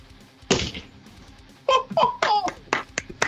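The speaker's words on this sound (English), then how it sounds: "That's a golf clap right there" A few scattered hand claps from players seated around a tabletop fight game, uneven and sparse, mixed with brief voices and light laughter nearby.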